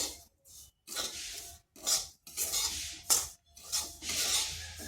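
Semolina is stirred and dry-roasted in a pan, with a spatula scraping in rhythmic rasping strokes separated by short pauses, close and quiet.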